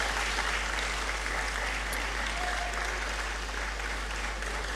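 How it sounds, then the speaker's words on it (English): Sustained applause from a graduation congregation ceremony audience in a great hall, steady and dense clapping throughout with no voices standing out. "let's sustain the clap as she resumes her seat"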